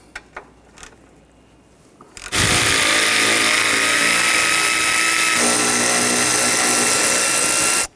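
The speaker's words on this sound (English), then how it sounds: "Using a 13mm socket, we're going to loosen these bolts up." A power tool with a 13mm socket loosens the front strut bolts on a 2013-2019 Ford Escape. After a quiet start with a few light clicks, a loud, steady, close whirring runs without a break to the end.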